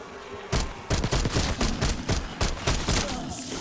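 Rapid bursts of gunfire at zombies in Call of Duty, a loud string of closely spaced shots ripping through a clip after a brief lull, near and punchy.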